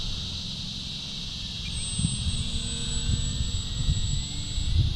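An FMS Ranger RC model airplane, roughly 1100 to 1200 millimetres in wingspan, flies mild aerobatics over a small park, its electric motor giving a steady high whine at moderate distance over outdoor rumble that builds slightly toward the end.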